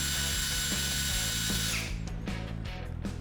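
A MASARU SCDH-120 18V cordless impact drill runs up close, its motor whining loudly with a fast rhythmic hammering ticking underneath, then the pitch falls away as the trigger is eased.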